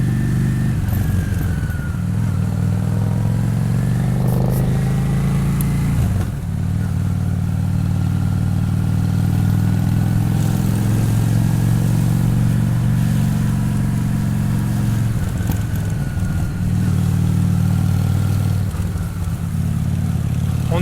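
Honda VT 600 Shadow motorcycle riding on a road, its engine droning steadily and loudly throughout, with a few shifts in pitch as it slows and picks up speed again; no one talks.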